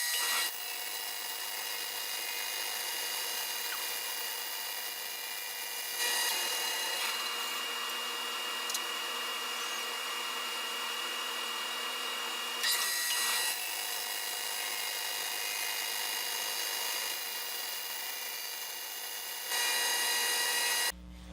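The Accu-Slice system slices a wooden board, producing a continuous close, hissing, whirring cut that holds steady for about twenty seconds, with slight changes in tone as the feed goes on.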